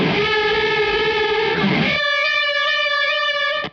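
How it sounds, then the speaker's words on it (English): Electric guitar with heavy distortion and a shimmering chorus effect, one sustained chord ringing out before cutting off at the end. "that could give you like a faux polychorus tone, right? If you add some distortion."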